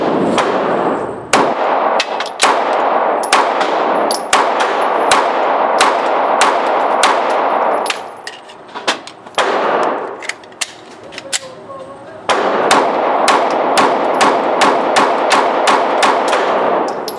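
Rapid pistol fire at a silhouette target in a torture test of a new EMP pistol, a long run of sharp, loud, closely spaced shots in bursts with short pauses between strings.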